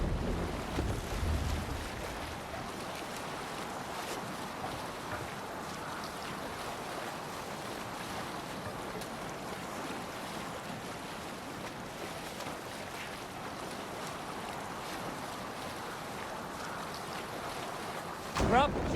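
A Viking longship under sail at sea in Assassin's Creed Valhalla, a steady wash of wind and waves rushing past the hull, continuous and moderately loud throughout, with a brief knock at the very end.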